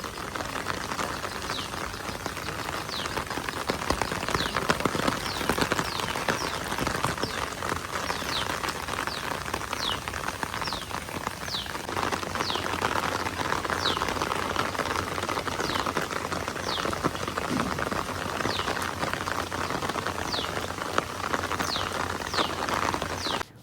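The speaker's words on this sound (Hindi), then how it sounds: "बारिश क्योंकि बहुत तेज़ हो रही थी" Heavy rain falls steadily in Lahore, a dense, even hiss of drops on surfaces with scattered sharper patters, continuous and unbroken for the whole stretch with no voices.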